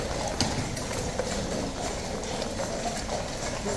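Hooves of ceremonial cavalry horses, including a corporal of horse's mount, clip-clop on hard ground in a quick, steady patter of sharp knocks under a dense wash of outdoor crowd noise.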